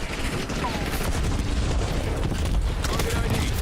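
Video game combat with a grenade blast among gunfire: a continuous dense rumble of booms and shots at steady loudness throughout, with voices talking over it.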